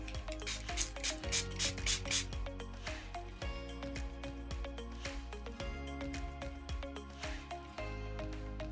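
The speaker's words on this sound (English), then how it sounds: "I'm going to spray it." Makeup setting spray puffs onto a face in a quick run of about five short, soft spritzes, followed by faint mechanical clicking and rattling.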